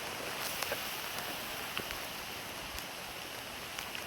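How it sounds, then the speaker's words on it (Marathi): Light rain patters in a soft, even hiss under a mango tree, with a few sharper drips landing nearby now and then. "बघा पाऊस किती चालू आहे."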